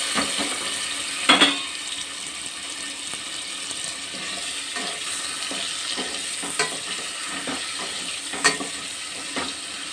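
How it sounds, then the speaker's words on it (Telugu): Paneer pieces fry in oil in a kadai with a soft continuous sizzle, broken by a few sharp stirring clinks, close and fairly quiet. "ఇదే కడాయిలో కొంచెం ఆయిల్ వేసుకోవాలి పన్నీర్ ముక్కల్ని ఫ్రై చేసుకోవాలి"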